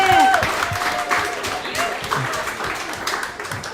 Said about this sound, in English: I think we should clap again